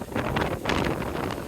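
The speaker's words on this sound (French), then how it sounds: "Le vent, il va nous emporter." Strong gusting wind during a storm at an RC event at Domaine Bois de Rose buffets the microphone in a loud, steady roar with rustling bursts and no voices.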